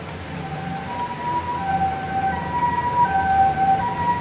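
An ambulance siren in the video game Corpse Party wails with a rising and falling tone, moderately distant over a low rumbling background, steady for a few seconds with no voices.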